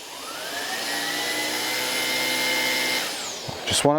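A Miele Duoflex HX1 cordless stick vacuum whirs steadily at close range on a floor with a high motor whine, then bumps and clatters briefly near the end.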